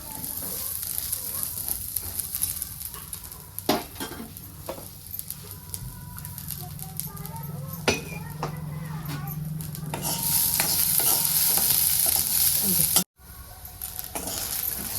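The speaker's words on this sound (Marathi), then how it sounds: "छान असं हे बी आपल्याला शेंगाचं भाजून घ्यायचं आहे अगोदर" Pigeon pea seeds are dry-roasted in a pan, with crackling, popping, and scraping stirs over a low hiss that grows louder and denser toward the end, with a brief cut near the close.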